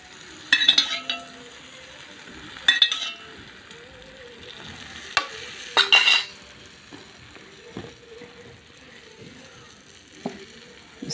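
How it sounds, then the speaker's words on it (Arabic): Hot homemade ghee hitting sugar syrup for a tray of sweet galash gives bursts of sizzling crackle, followed by scattered clinks of pans and utensils in a kitchen. "سامعين الطشه دي؟"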